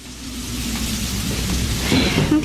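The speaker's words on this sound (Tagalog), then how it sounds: "Hindi naman siguro kasi malakas ang ulan sa labas eh." Heavy rain pours steadily outside at night, a dense continuous hiss with a low rumble beneath, growing slightly louder toward the end with a few brief tonal sounds over it.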